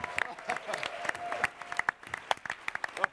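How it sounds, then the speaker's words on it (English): Audience at a San Diego Comic-Con panel for LEGO Batman 3 clapping and cheering, a dense burst of applause from a large room with a voice calling out over it. "Everybody, please put your hands together."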